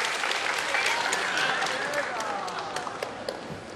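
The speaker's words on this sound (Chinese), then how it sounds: "你们先别鼓掌" Audience applause at a live Chinese crosstalk comedy show: a dense, steady wash of clapping from a full crowd that gradually thins toward the end, with voices talking over it.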